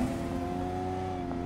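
A video game car engine holds a steady, sustained drone through the whole short moment, with no talking over it.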